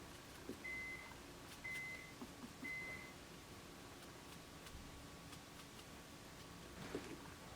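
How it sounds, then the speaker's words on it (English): A microwave oven gives three short, high electronic beeps evenly spaced over a low, steady hum of room noise, followed by quiet background. "I hear the microwave."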